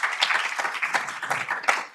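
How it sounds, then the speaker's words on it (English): Conference audience applauding panelists onto stage at an industry panel on commercializing data, a dense, continuous patter of many hands clapping at moderate volume throughout. "Everyone, round of applause for our panelists coming up here"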